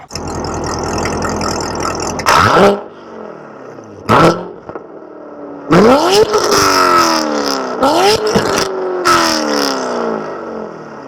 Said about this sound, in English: Everyone has to hear the exhaust.